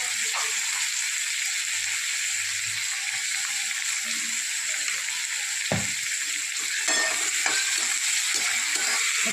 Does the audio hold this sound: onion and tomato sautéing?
yes